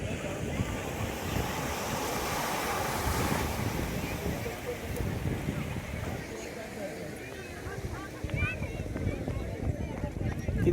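Sea waves wash onto the sand at Vasai beach at night: a steady, continuous roar of surf mixed with gusty wind buffeting the microphone and a faint murmur of voices.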